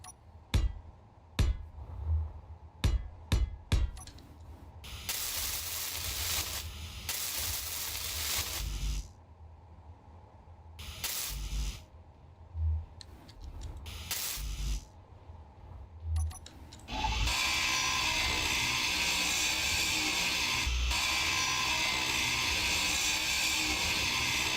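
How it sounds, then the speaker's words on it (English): A handheld grinder tool in the game Space Engineers gives a loud, steady, harsh grinding whine that starts abruptly after a run of short clicks and broken bursts, then holds continuously to the end. "the only thing that really bothers me is how loud the grinder is"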